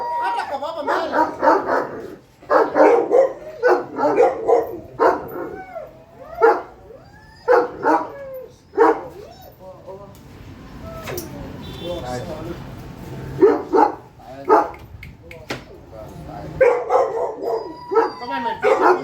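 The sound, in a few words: dog barking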